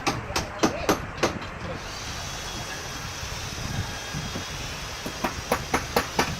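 Sharp hammer blows driving nails into wooden laths on a traditional Javanese joglo house under construction, a quick burst of strikes at the start and another run near the end, with a steady hiss of outdoor background between.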